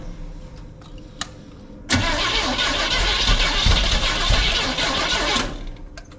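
A 1971 Chevrolet C10 pickup engine cranks steadily for several seconds without catching, a loud continuous starter whir that stops abruptly, preceded by a quiet lull with a single faint click.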